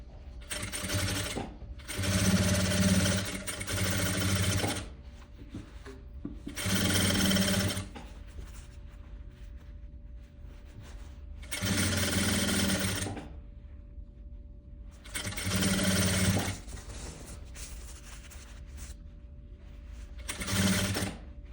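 A sewing machine stitches a stand-up collar vest in several loud, rapid bursts of a few seconds each, separated by quieter pauses, close to the microphone with no talking.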